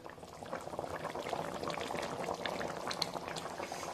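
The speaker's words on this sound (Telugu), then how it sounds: "క్యాప్ పెట్టేసుకుంటే ఒక 5 minutes చక్కగా ఉడికిపోద్దాము." Fish curry bubbles in a covered pot: a close, continuous bubbling simmer with dense popping and gurgling that holds steady throughout, with no talk over it.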